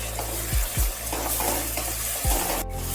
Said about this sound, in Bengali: পেঁয়াজ টমেটো অল্প ভাজা হয়ে গেছে